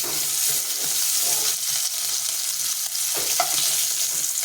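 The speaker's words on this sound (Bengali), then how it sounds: "মাছটা কিন্তু ভাজা হয়ে গেছে। মাছটাকে আমি বেশি কড়কড়া ভাজবো না" Fish sizzles in a frying pan with a steady, close crackle and hiss that carries on evenly, with no voices.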